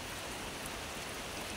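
Rain falls in a steady, even hiss, soft and continuous, with no other sounds standing out.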